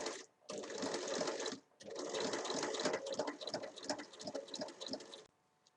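A sewing machine stitches the corner base of a zippered fabric pouch in two close, fast whirring bursts separated by a short pause, ending in quiet.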